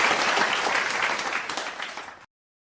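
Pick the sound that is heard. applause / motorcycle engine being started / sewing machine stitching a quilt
applause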